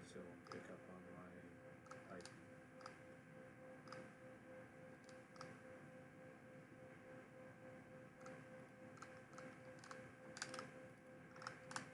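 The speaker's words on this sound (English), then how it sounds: "I definitely got to figure out the sound settings so I don't pick up on my typing" Rapid clicking of computer keyboard keys in irregular bursts, fairly close, with a voice speaking over the typing.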